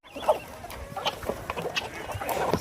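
Native country chickens cluck and call repeatedly at close range while being fed natural forage on a farm, with soft scuffling and rustling between the scattered, overlapping clucks.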